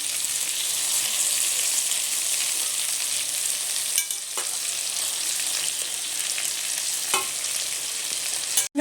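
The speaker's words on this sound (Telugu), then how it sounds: "టొమాటోని ఇట్లా క్రష్ చేసినట్టుగా వేసుకోండి. టొమాటో కూడా బాగా మగ్గాలి." Onions and crushed tomato fry in a pan with a steady close sizzle and crackle, a few stirring scrapes breaking through, no voices.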